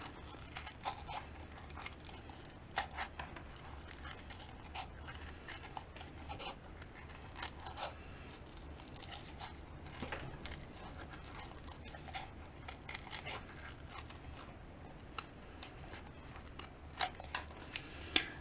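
Scissors snip and scrape through material to cut out a circle for a yarn-wrapped wreath ornament, a quiet, close series of irregular rustling clicks and crisp snips with no speech.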